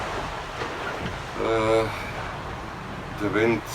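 Strong wind of up to 35 knots at sea at night aboard a sailing catamaran running under genoa only, a steady broadband rush and roar throughout, with two short bursts of voice rising above it.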